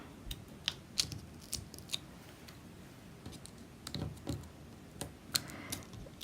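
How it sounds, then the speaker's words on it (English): Scissors cut cardstock into squares for a Mother's Day card. The close snips are quiet and irregular, some single and some in quick pairs, over a soft room background. "I'm just cutting it in just squares."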